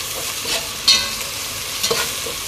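Ginger garlic paste fries and sizzles with browned onions in a karahi for Pakistani-style cooking. A steady hiss is broken by a few stirring scrapes, heard close with no talk.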